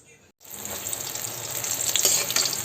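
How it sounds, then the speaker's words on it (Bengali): Brinjal sizzles steadily in a hot pan, a continuous close frying hiss that grows slightly louder, with no talking. "একটু বেগুন ভাজছি"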